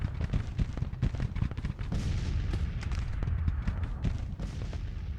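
Artillery guns firing in a Civil War strategy video game, a dense, continuous rumble of booms and cracks from many shots overlapping, loud and sustained, with no talking.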